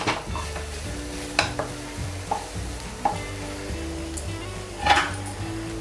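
A spoon stirs a wet grated-coconut barfi mixture in a pan on the stove, with a soft steady sizzle under repeated scraping strokes and occasional metallic clinks against the pan, close and without talk.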